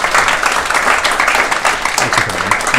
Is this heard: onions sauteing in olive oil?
no